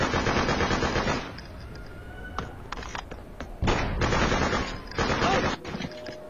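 Gunfire in the Freedom Fighters video game: long, dense bursts of automatic fire with short pauses between them, loud and close, with no talk over it.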